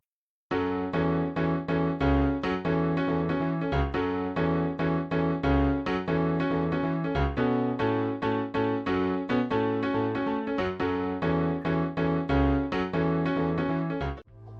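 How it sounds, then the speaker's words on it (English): Piano chords with a slight syncopation between left and right hands, steady repeated struck chords over low bass notes, bright and full, playing alone without speech. "Next up, I played some piano, playing some chords"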